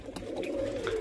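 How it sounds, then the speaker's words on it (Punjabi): A teddy pigeon gives a soft, close, throaty coo, one low rolling call that rises and falls, with no talking over it. "ਇਹ ਵੀ ਸਾਡਾ ਟੈਡੀ ਕਬੂਤਰ ਮਾਸ਼ਾਅੱਲਾ ਦੇਖ ਸਕਦੇ ਹੋ"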